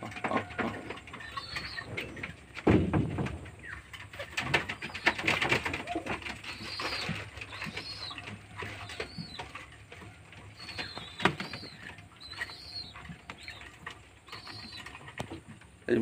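Pigeons coo in their loft, with low, repeated calls overlapping at a moderate distance. Light pattering, shuffling and rustling continue alongside them.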